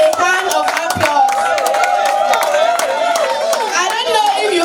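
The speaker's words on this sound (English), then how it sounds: "So let's give her a hand of applause." Applause from an audience at the launch of an urgent care and mental health clinic, a dense steady clapping with a crowd cheering and chattering, and voices talking over it throughout.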